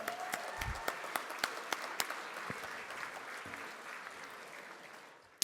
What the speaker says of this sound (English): How about a round of applause for their captain?